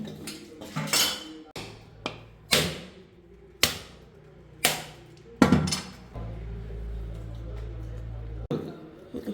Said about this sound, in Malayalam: തേങ്ങ കൊത്തിടുന്നു